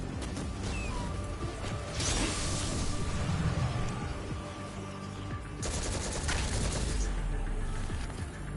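Gunfire in Destiny 2, heard as rapid mechanical bursts of automatic fire with clattering, ratcheting texture, two stronger stretches separated by steadier background game noise, moderately loud.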